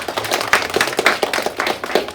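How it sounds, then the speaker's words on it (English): A small group clapping at a grade 5 school celebration ceremony, in a steady, uneven patter, fairly close, with no talking over it. "How about a round of applause for Mr. Dutt?"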